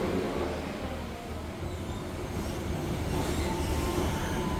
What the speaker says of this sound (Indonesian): saya akan naik KRL yang arah Rangkas, keberangkatan dari Tanah Abang